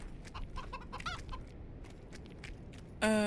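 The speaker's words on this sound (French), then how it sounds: "tuer ces poules" Chickens cluck in The Witcher 2 video game, several short overlapping clucks scattered through a game soundscape. A sharp tonal game sound cuts in at the end, and no one speaks.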